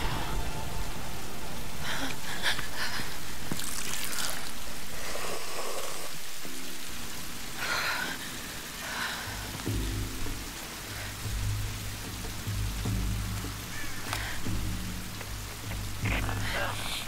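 Storm rain in the video game Tomb Raider, a steady dense patter of rain on surfaces with scattered louder drops and splashes, constant and fairly close, underlaid by low rumbling tones later on.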